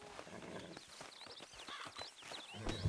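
A horse walks at a steady pace in Red Dead Redemption 2, its hooves giving even, rhythmic clip-clops close by. Birds chirp faintly in an outdoor setting and a low thump comes at the end.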